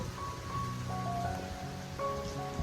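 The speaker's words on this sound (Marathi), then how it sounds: "पाऊस यायला लागला ना ग ताई हो" Rain falls steadily in a soft, even hiss, with faint sustained tones in the background.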